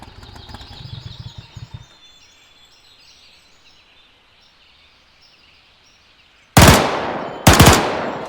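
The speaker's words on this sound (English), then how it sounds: "Looks like the gun worked." A DP machine gun mounted on a Russian R71 motorcycle fires in the IFA3 mod for Arma 3, two loud close bursts of rapid fire after a stretch of quiet engine-like rumble.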